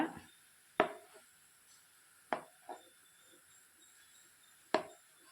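A knife cutting boiled eggs into small pieces, a few sharp isolated chops on a board spaced a second or more apart, close and clear with quiet between and no talk.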